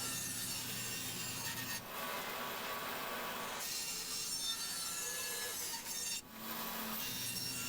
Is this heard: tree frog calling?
no